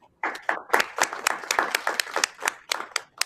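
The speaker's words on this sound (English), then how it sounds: "Let's give one more round of applause." A small audience claps steadily for a few seconds after a talk, the hand claps sharp and close, starting abruptly after a brief silence.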